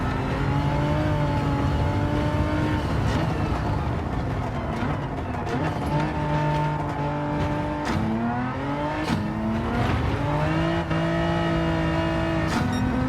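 Hyundai race car in Gran Turismo 7, engine droning loud and steady throughout, rising through the revs and dropping sharply at several gear shifts.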